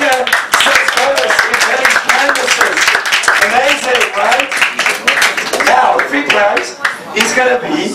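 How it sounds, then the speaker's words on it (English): An audience aboard a Carnival cruise ship claps steadily for about eight seconds, a dense, close patter of many hands mixed with cheering and crowd voices. "Let's give another round of applause."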